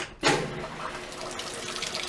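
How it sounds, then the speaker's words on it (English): Water starts flowing into a Maytag washing machine after a repair, a sudden burst followed by a steady, close rushing stream that holds on evenly with no talk. "Whole lot more water flow now."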